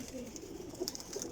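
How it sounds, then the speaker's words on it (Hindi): Breeder pigeons coo quietly nearby, a few soft, rolling calls rising over a low, steady background murmur. "कबूतर ना कमाल कबूतर जे, बहुत अच्छा कबूतर जे जनाब"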